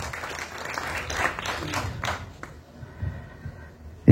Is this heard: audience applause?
yes